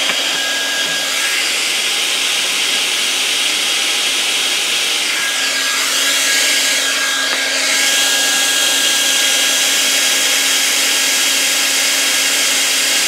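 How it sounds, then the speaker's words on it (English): A hair dryer blows continuously at close range, a steady high whooshing whine with a faint hum, unchanging for the whole stretch. "let's turn our hairdryer on"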